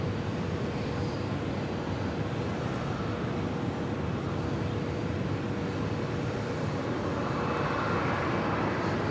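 An Air Tahiti Nui Boeing 787 Dreamliner lands on runway 25 left at LAX, a continuous broad roar of engine and rushing air, steady and loud throughout.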